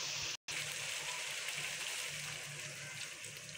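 Water gushes steadily into a pan of frying potatoes and eggplant, a continuous hissing pour close by that cuts out briefly near the start before resuming, with no one speaking.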